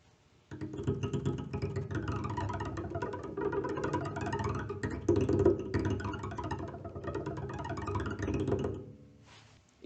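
Double bass bowed with the tip of the bow beneath the bridge, giving a steady, gritty, scratchy drone that holds for several seconds before stopping, with no talking.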